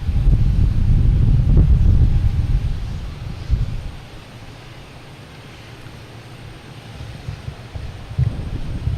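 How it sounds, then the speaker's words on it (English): Wind gusts buffet an outdoor microphone at Boston Logan Airport, loud rumbling for the first few seconds, then easing to a softer steady rush with a brief flare near the end. "I'll try and move the microphone so there's not as much wind sound after this plane takes off."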